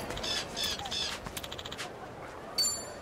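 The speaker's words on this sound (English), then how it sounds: "Hey, bird." In the video game Like A Dragon: Infinite Wealth, a crow caws three times in a short, evenly spaced burst. Quieter clattering game sounds follow, and a sharp electronic blip ends the sequence.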